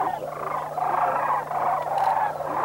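Dense chorus of sandhill cranes calling together as a flock flies over, rolling overlapping bugling cries forming a steady, continuous wash of sound with a faint constant hum beneath.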